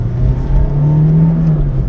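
A Toyota Matrix XRS with a 2ZZ engine hums loudly and steadily at building revs under hard acceleration, heard close from inside the car with no talk.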